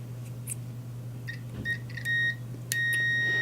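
A multimeter on continuity test gives several short, sharp electronic beeps in quick succession, then a longer sustained tone, all over a steady low mains hum.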